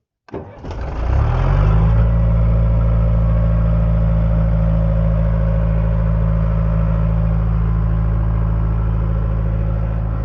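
A late-1980s Caterpillar 943 track loader diesel engine cranks briefly, catches and settles into a loud, steady, deep idle that drones on close by with no one talking.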